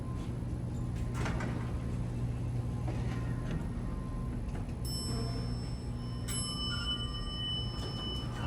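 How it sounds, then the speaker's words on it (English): An Otis traction freight elevator at a university hall sounds its chime, two bright high tones several seconds apart over a steady, noisy machine-room hum, with no talking. "I love that chime."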